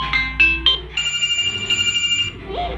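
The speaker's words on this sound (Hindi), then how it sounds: "आप कोई सी भी रिंगटोन सेलेक्ट कर लीजिए यहाँ से।" A ringtone plays on a Xiaomi Mi A1 smartphone, a bright electronic melody with a few short opening tones, then a sustained pulsing phrase for about a second and a half, ending in a brief rising note, with no talk.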